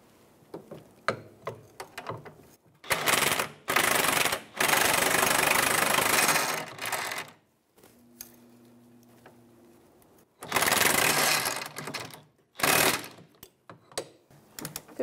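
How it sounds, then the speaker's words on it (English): Power tool bursts work on the rear sway bar link of a 2009-2014 Nissan Maxima, with loud buzzing, rattling runs of a few seconds separated by gaps, plus a low steady hum in the middle. "Snug it up, and then I'll get my torque wrench"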